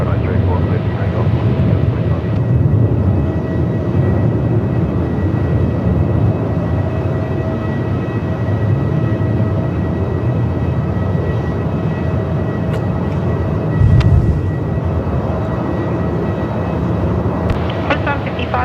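An airliner, City 745, takes off from runway 34 at Melbourne Airport in 45-plus-knot winds. A loud, continuous engine roar fills the whole stretch under ongoing talk, with a brief thump near the end.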